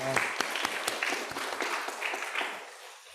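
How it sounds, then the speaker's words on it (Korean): Church congregation at a Korean Sunday service clapping in welcome for a returning member, a brief round of scattered claps that thins out and fades toward the end. "박수로 환영합니다"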